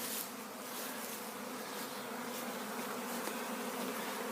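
Honey bees fly in to a swarm trap, making a steady, close, continuous buzzing drone with no voices.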